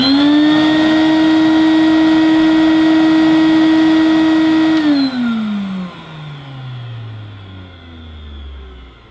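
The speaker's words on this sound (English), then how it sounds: "Now we're going for the rear motor." Hoover Futura 2000 commercial vacuum cleaner's rear motor whines loudly and steadily for about five seconds, then switches off and spins down with a falling pitch that fades out.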